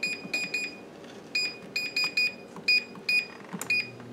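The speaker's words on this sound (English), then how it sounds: "the air fryer just kicked off" An air fryer sounds its finishing alarm while baking potatoes: a series of sharp, high electronic beeps in short clusters of two or three, fairly close and clear over a low background hum, with no talking.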